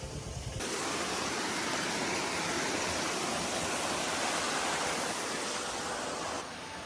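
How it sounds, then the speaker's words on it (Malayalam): A small waterfall in the Ambanad hills rushes as a continuous broadband roar, loud and steady throughout with no voices. "ദേ ആ സൈഡിലായിട്ട് ചെറിയൊരു വെള്ളച്ചാട്ടം കാണാൻ സാധിക്കും"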